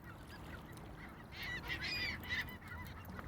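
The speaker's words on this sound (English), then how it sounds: "So many juvenile seagulls." Juvenile seagulls call in a flock, a cluster of loud squawking cries rising midway over steady outdoor background noise.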